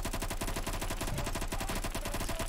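Bison gun in Phantom Forces, fired in sustained automatic bursts: a rapid, even stream of sharp shots close up, continuous for the whole stretch with no pauses and no talking.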